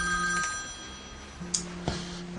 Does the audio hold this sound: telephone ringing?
yes